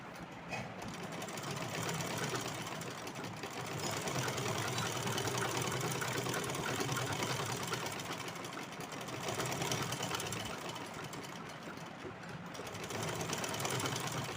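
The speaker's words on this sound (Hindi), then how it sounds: "तो चलिए मैं इसको पहले यहाँ से सिलाई कर देती" A sewing machine stitching fabric for a Kanha ji dress, running steadily and continuously at close range with a slight rise and fall in pace, no talking.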